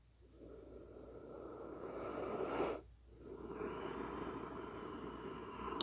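Slow, deep breaths during a yoga session, a long airy inhale swelling and then easing into a soft exhale, quiet and close with no talk.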